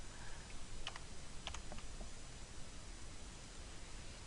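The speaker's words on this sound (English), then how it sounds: "I'm using the backspace and shift enter to get these to cooperate with the way that I want it to look" Faint, scattered keystrokes on a computer keyboard, including backspace and shift-enter presses, with a few sharper clicks in the first half over a steady background hiss.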